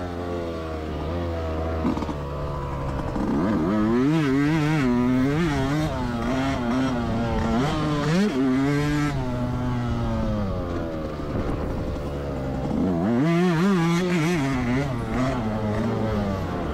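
A 2024 Yamaha YZ125X two-stroke dirt bike revving hard while being ridden, the engine note climbing and falling through loud sustained pulls, close and continuous without speech.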